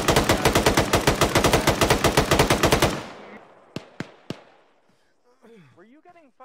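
A rapid, loud burst of automatic gunfire with red tracers in a military video game, about three seconds of steady shots, followed by a few sharp single cracks and then a voice.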